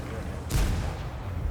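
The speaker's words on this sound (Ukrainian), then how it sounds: "Роблю перший постріл якийсь." A single muffled AMX 13 90 tank cannon shot in a video game booms once amid steady background rumble, its low thud lingering briefly.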